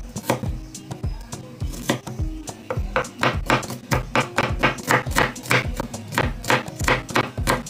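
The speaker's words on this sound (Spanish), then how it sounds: "Y los 5 ajos también los vamos a picar" A knife chops five garlic cloves on a cutting board in steady rapid strokes, each a crisp close tap, keeping an even rhythm throughout with no voices.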